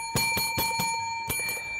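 A bright metallic bell during a wasabi Bugles snack game, struck several times in an uneven rhythm with ringing overtones that hang between strikes, loud and close with no talking.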